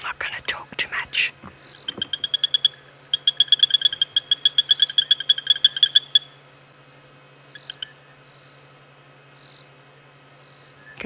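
Tandy's sand frog at night, a close run of rapid sharp clicking calls over a few seconds that then stops. Whispered voices come before the calls, and a faint hum and insects fill the quiet background.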